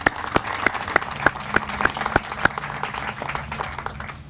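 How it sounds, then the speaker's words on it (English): A crowd applauds donors at a Nash Community College building dedication and ribbon cutting, steady clapping from many hands with a few sharper nearby claps standing out, moderately loud and continuing throughout. "So let's give them a round of applause"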